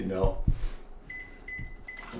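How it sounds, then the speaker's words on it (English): Microwave keypad beeps sound a few times, short high tones spaced apart, mixed with nearby bumps and a bit of talking. "I'm gonna nuke it a little bit in the microwave because I like it hot"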